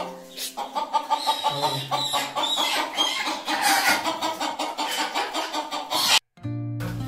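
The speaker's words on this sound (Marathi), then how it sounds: "हा बघा हा एक कोंबडा आहे आमचा ब्रीडर." Village free-range chickens and a newly brought breeder rooster in a shed, clucking busily and continuously up close, overlapping calls with occasional louder squawks and a brief cut near the end.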